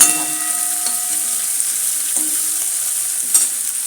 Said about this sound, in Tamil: நல்லா வதக்கிடுவேன்.